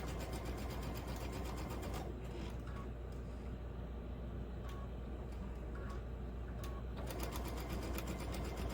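A sewing machine stitches quilt half square triangles along a pinned long edge, whirring steadily and close, then pausing with a few light clicks before running again.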